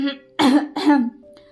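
A light, throaty cough in two quick bursts, close and clear, with a faint voiced tone before and after in a quiet room.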